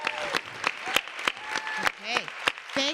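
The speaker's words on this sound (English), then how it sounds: "Another round of applause for Elena" An audience applauds at an International Women's Day event, with scattered, distinct claps rather than a dense roar, while voices call out and talk over the clapping.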